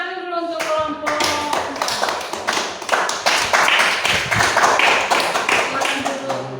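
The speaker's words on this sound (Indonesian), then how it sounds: "tepuk tangan dulu untuk kelompok 4" A classroom gives group 4 a round of applause, many hands clapping together in a dense, steady patter that lasts several seconds. Voices can be heard at the start.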